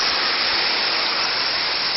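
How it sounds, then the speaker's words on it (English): Small waterfall in Costa Rica, a steady, close rush of falling water that stays even and broadband throughout, with no voices over it. "That's a waterfall."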